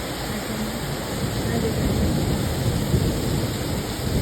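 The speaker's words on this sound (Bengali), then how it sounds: "করছে বৃষ্টি" Night rain in Italy falls in a constant wash of noise with a low rumble, steady throughout, and a faint voice in the background.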